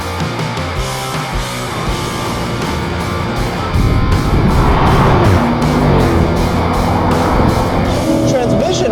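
Engine of a Toyota GR Supra revving hard and accelerating in a drag race against a Chevy Corvette Stingray, a loud sustained roar that grows stronger midway, with voices talking over it.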